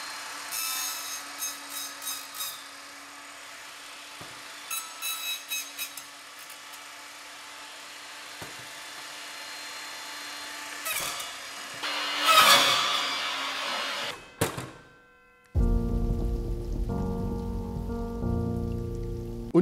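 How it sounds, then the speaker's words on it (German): An Evolution table saw is switched on after a stretch of quiet handling knocks and rustles, its motor jumping abruptly to a loud, steady whining hum for the last few seconds. "ich mache die Säge jetzt an"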